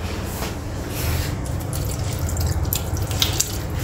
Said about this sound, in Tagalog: Lagyan na pa natin ng konting tubig.